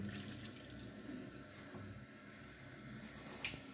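Deca close-coupled toilet cistern refilling after a flush, a low steady trickle and hiss of water running into the tank, faint and continuous with a small knock near the end.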